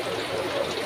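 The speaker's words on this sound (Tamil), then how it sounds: "போட்டுட்டு நல்லா ஃப்ரை பண்ணுங்கள்." Potato strips for french fries fry in hot oil with a constant bubbling sizzle, close and steady for a brief moment.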